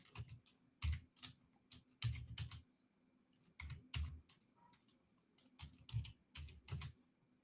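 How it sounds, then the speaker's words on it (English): Bursts of typing on a computer keyboard, close and quiet, with clusters of quick key clicks separated by short pauses. "I can't type tonight."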